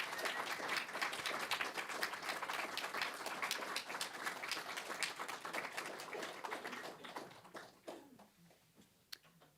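Audience applause following a poetry reading at an evening literary series, dense steady clapping from a crowd that thins out and fades toward the end, with a few last scattered claps.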